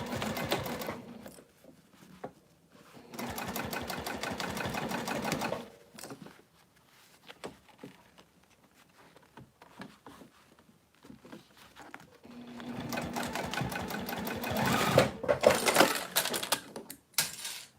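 A sewing machine stitching a bowler bag runs in two sustained bursts separated by a quieter stretch of handling, close and clear, with no voices.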